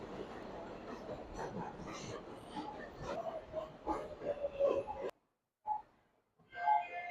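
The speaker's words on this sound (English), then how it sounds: "that's the sound of the train" A New York train rolls past near a street crossing with a sustained rumble and a rising metallic squeal. The noise cuts off abruptly, then faint street sounds and a voice follow.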